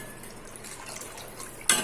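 About half a litre of water poured into a cooking pot for sweet corn soup, a faint steady splashing that ends in a louder, brighter gush.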